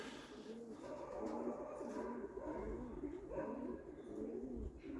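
Domestic pigeons coo steadily above a pigeon loft, a low, rolling, continuous murmur from several birds close by, with no talk.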